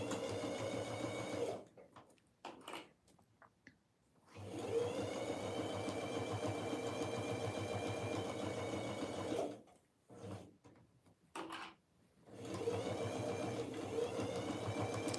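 A sewing machine stitches fabric binding in steady running bursts, close and clear, stopping twice for short pauses filled with small handling sounds before resuming.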